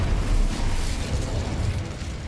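A Confringo fire-blast spell explosion in the Hogwarts Legacy video game, a loud, sustained booming rumble with dense bursting noise lasting a couple of seconds, no talking.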